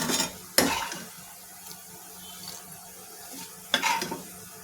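Fried onions and cumin sizzle softly in a pan as a spoon stirs them, with two sharp scrapes of metal against the pan standing out over the quiet frying.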